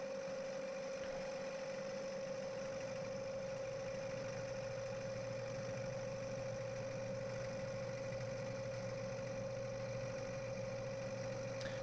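A variable-speed wood lathe turning an ash crotch bowl at 800 RPM, giving off a steady, even motor hum and drone that holds constant throughout with no clear cutting bites.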